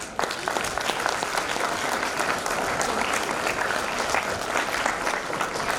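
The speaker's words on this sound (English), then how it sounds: "Well, they definitely deserve a big round of applause." Sustained audience applause after performances at a school English Week celebration, steady dense clapping filling the whole stretch at close, even loudness without talk.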